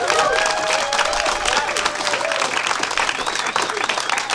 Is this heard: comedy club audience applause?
yes